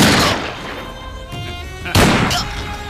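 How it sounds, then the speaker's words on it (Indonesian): Gunshots in an Indian action film scene where three smugglers shoot a man repeatedly, heavy booming reports with a dense noisy backdrop and a sharp blast near the end. "Mereka bertiga menembak Saravanan berkali-kali hingga tewas."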